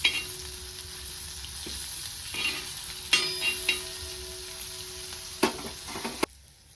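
Bitter gourd slices fry in hot oil with a continuous close sizzle, and scattered clinks and scrapes sound as the pieces are turned over to the other side, with no one talking.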